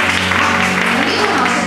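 An audience claps to welcome a yoga teacher onto a stage, a dense, steady wash of applause that is loud and close for a short burst.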